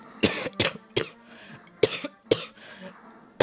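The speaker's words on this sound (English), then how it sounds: "Gotta stop coughing." Five sharp coughs in uneven bursts, close and fairly loud, with short pauses and faint breathing between them, over Final Fantasy gameplay.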